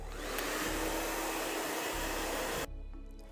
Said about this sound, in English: So I'm having my dryer and very simple, I'm just gonna dry the hair completely.